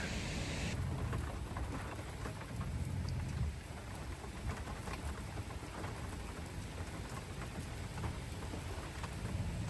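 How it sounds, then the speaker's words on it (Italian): An approaching storm with strong wind and rain batters a camper van in Ripoll, Spain: steady hissing rain and rushing gusts fill the scene, with no voices. "la tempesta in arrivo, c'è un vento forte forte"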